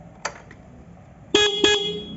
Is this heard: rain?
no